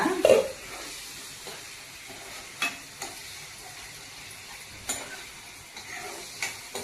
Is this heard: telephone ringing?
no